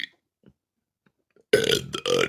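An elderly woman lets out a long, loud burp in two bursts after a near-silent pause.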